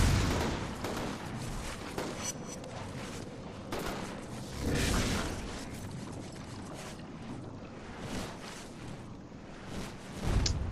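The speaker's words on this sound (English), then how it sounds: "Well, they got a turret." Turret gunfire in the inFamous video game, loud bursts of rapid shots recurring at irregular intervals over a steady windy, rushing roar, with no talking.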